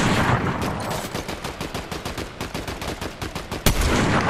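Rapid automatic gunfire in Fortnite zero-build trios, a loud, dense string of shots firing steadily for several seconds with one heavier bang near the end.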